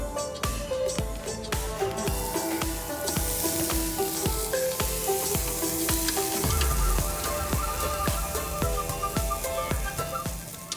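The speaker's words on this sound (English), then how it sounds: "Time now to get the steak onto the grill" Flat iron steak sizzling on a grill, a loud, steady crackling sizzle with many sharp pops and clicks of tongs or utensils scattered across the whole stretch, no talking.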